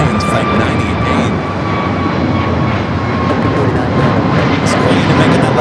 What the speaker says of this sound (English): that Global Express coming in from Teterboro, Fly Alliance Flight 98